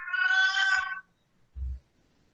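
A cat gives one clear, loud drawn-out meow up close, followed by a short low thump, with no talk.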